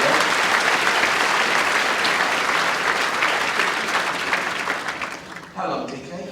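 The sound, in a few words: audience applause at bowls championship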